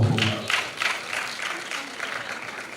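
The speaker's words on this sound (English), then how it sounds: "Round of applause for yourself for coming up for me." An audience at an academia-to-industry career event claps briefly, a loose, moderate patter with a few distinct pulses that thins out over a few seconds.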